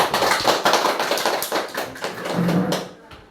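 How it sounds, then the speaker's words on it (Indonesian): A class bursts into applause for its school principal, dense overlapping hand claps rolling on for about three seconds before cutting off into quiet. "Berikan aplaus"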